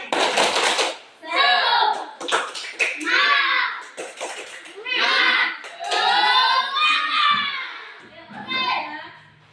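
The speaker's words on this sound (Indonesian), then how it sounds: "Tepuk semangat." A primary school class performs a rhythmic tepuk semangat spirit clap, bursts of hand claps alternating with children chanting together in a loud classroom.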